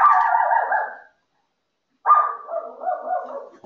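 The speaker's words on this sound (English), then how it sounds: "My dog creating a ruckus." An indoor pet dog barking and yowling nearby in two drawn-out, whining bursts separated by a second of silence, loud and close.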